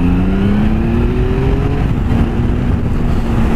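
A Triumph Sprint ST 1050 motorcycle pulls away from close by, its loud engine note climbing steadily in pitch as it accelerates, then settling briefly before rising again.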